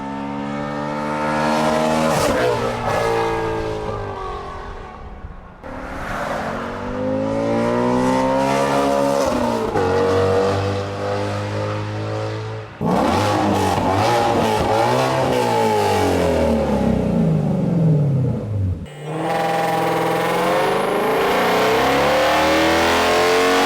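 Ford Mustang GT350 fitted with a Z-pipe exhaust revving hard on a dyno, loud sustained engine roar rising and falling through several long pulls with brief gaps between them, no talking.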